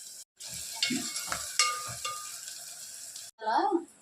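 Onions, green chillies and curry leaves sizzle and crackle in hot oil in a pan, with intermittent stirring and utensil scrapes, close and moderately quiet, broken by short pauses.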